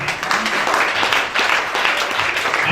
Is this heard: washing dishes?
no